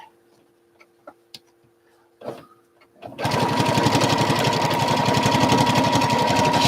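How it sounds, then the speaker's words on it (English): After a few faint clicks and handling sounds, a sewing machine starts stitching a zigzag with invisible thread, its fast, steady, close mechanical chatter running to the end. "I'm just going to quickly do a little zigzag with invisible thread."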